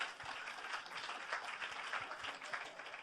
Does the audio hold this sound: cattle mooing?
no